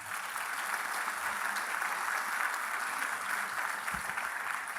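A church congregation claps steadily in praise at a Spanish-language service, a dense, even wash of applause heard at a moderate distance.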